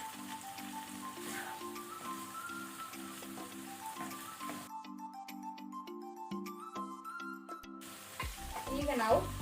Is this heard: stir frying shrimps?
yes